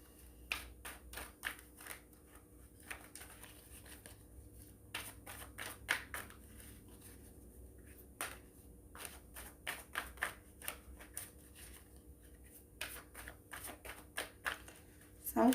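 Tarot cards are laid out by hand, giving sharp, quiet snaps and taps in irregular clusters, close and soft against a near-silent room.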